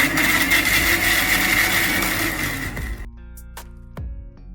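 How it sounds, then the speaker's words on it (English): A kitchen blender grinds peppers into a rough texture, running loud and steady with a broad whirring roar for about three seconds before cutting off, leaving faint clicks and a ringing knock afterward. "We're going to blend this into rough textures."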